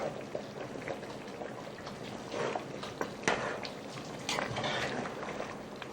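Thick soup being stirred gently in a pot gives close, steady wet bubbling and sloshing with small splashy peaks throughout, and no one speaks.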